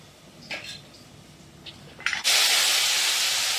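Water heating in a pan for cooking oats: after a few soft clinks and quiet moments, a loud, steady broadband hiss of steam and bubbling starts abruptly and carries on unbroken, close by and with no speech.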